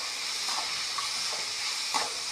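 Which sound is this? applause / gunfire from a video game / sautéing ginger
sautéing ginger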